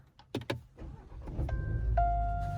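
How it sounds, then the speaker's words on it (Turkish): A couple of clicks, then a 2021 Volkswagen Golf 8 R-Line with DSG automatic gearbox cranks and catches, settling into a low steady idle with a faint whine. "Şimdi aracımızı çalıştıralım."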